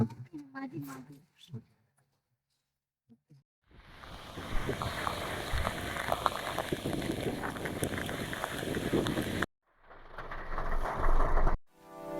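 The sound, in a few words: monsoon rain at Vagamon Pullikkanam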